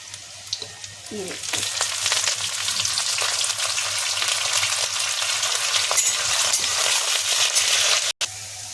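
Loud, dense sizzling and popping of cumin, nigella seeds and curry leaves frying in hot oil with garlic, constant throughout, with a few clinks and a brief cut near the end.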